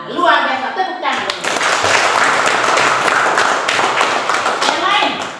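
Classroom applause: a group of children clap together in a sustained, dense burst after a short stretch of teacher's speech, loud and close, continuing for several seconds.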